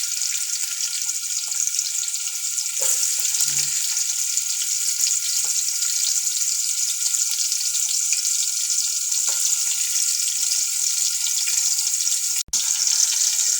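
Garlic frying in a pan until golden brown, a steady broadband sizzle running continuously throughout, with a few soft clinks and stirring touches, no talking.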